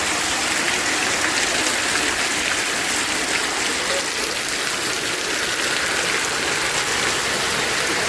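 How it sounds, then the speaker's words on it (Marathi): Heavy monsoon rain in Konkan pours down in a constant, hissing wash, loud and even throughout, with no gaps or letup. "तुम्ही बघताय तर पाऊस खूप आहे कोकणात"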